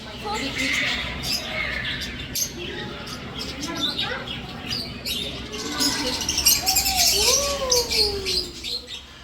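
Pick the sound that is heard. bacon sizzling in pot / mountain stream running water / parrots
parrots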